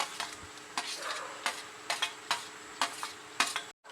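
Tomatoes with ginger garlic paste sizzle in a pan for prawns sukka while a spoon stirs and scrapes in quick repeated strokes, close and fairly steady.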